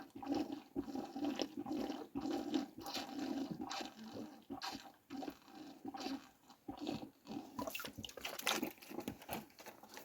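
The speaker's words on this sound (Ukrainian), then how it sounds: "Тобі дам водички. О, пий водичку." A goat drinks water, giving a near, irregular run of laps, slurps and soft splashes with small crunchy knocks against the container, steady over several seconds.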